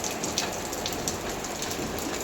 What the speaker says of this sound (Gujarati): જો વરસાદ અમારે ધમધોકાર ચાલુ છે.